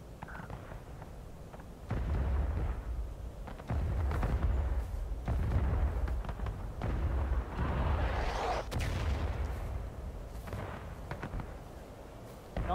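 Artillery cannons booming in the Civil War game War of Rights near a cornfield, heavy rumbling blasts that roll and overlap, loud and continuous with distant echoing reports.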